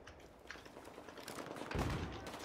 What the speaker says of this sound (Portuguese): Tem gente dando tiro aqui.